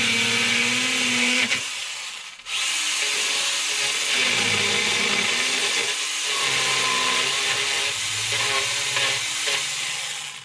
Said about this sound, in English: the chain's spinning really fast and it just cuts